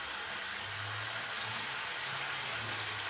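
Water runs steadily from a tap while a dog is being bathed, a continuous close hiss of flowing water with no talking.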